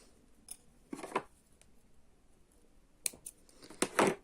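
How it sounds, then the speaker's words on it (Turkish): Scissors snip threads in needle lace work (iğne oyası), with two close, crisp cutting bursts separated by a short quiet pause and no talking. "İplerimi kesiyorum."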